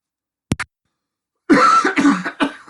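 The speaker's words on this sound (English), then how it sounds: "we both have the sniffles, so we do deeply apologize for all the sniffling and coughing" Someone with a cold coughs: a short double cough, a second of silence, then a longer burst of harsh, chesty coughing close to the microphone.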